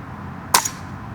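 One sharp, close, crisp crack from a Priest2 air rifle being fired, a single brief shot that fades fast over a low steady background hum.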